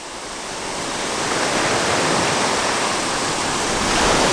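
Rushing water roars in a steady, broad wash that swells slightly louder, like a creek tumbling nearby as it flows into a lake by Chapel Beach, with no other sounds.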